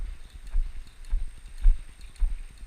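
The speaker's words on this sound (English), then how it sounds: "It's a pretty good first right lead lope depart for him" A horse moving into a right lead lope during training, its hoofbeats thudding in a steady three-beat rhythm, close and moderately loud over soft background noise.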